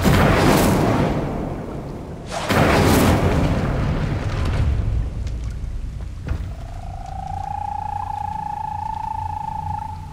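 A fire spell cast in Hogwarts Legacy: two loud roaring whooshes in quick succession, followed by a softer crackling tail and a sustained high tonal hum near the end, with no talking.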